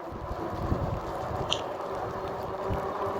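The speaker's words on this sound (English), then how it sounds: "There's a lot of wind right now. I can feel the wind blowing, pushing me back." Wind buffets a cyclist riding a Radrover e-bike in the rain, a low rumbling roar against the microphone that stays steady and close with occasional gusty thumps.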